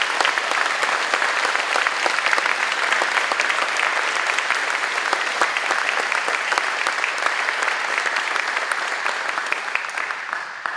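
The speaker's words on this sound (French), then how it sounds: "j'aimerais qu'on leur donne une bonne main d'applaudissements" An audience at a school graduation ceremony applauds for about eleven seconds. The clapping is loud and sustained, a dense and even wash that does not fade.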